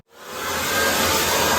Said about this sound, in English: We're gonna vacuum them.